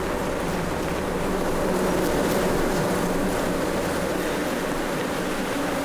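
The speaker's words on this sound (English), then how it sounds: "These bees are angry." A swarm of angry bees keeps up a dense, continuous buzzing drone close by, steady and loud for the whole stretch with no voices over it.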